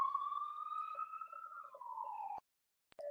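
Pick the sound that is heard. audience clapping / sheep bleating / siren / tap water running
siren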